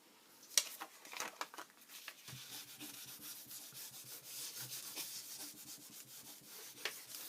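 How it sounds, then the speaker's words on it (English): A craft iron rubs melted beeswax onto paper, making soft, close scraping and rubbing strokes in repeated passes, faint and dry, with no talking. "So let's get this on there to fill it in real quick, and then rub it off, fill it in, rub it off."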